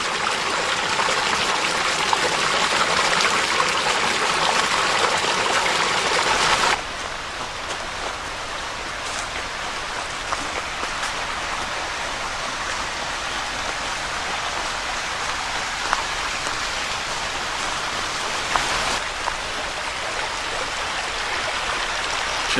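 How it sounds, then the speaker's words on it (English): A small waterfall tumbles in a forest stream at Kings Gap State Park, Pennsylvania, a steady broadband rush of splashing water, louder for the first few seconds and then settling into a continuous softer wash with no voices. "There's a nice little waterfall"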